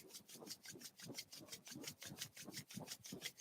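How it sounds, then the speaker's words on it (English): Two palms rubbing briskly together during a guided meditation, a steady back-and-forth swishing with about a dozen regular strokes, close and soft, with no talking. "And we're rubbing the hands together."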